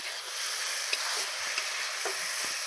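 Radish stems fried with spices and a pinch of cumin powder hiss in a steady, fairly quiet sizzle, with a few soft spatula taps and stirs.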